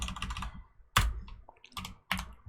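Someone types on a computer keyboard, producing a quick run of soft key clicks followed by a few sharper, separate keystrokes with short pauses between them. The sound is close and fairly quiet, with no talking.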